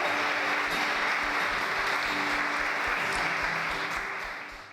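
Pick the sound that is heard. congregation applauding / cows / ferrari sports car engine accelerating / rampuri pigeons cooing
congregation applauding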